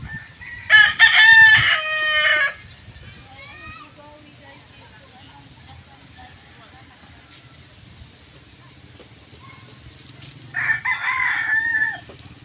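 A rooster crows loudly twice, near and clear, once at the start and again near the end, with quiet rural background in between.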